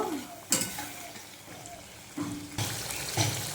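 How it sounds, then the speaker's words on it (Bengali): Spice-rinse water from a mixer jar is poured into a pan of cooking fish, giving a hissing sizzle with stirring scrapes and a few sharper splashy bursts, close and moderately loud. "যে মিক্সিতে মশলা করেছিলাম মশলা ধোয়া জলটা একটু দিয়ে দিচ্ছি"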